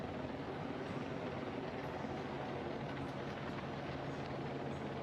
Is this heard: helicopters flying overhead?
yes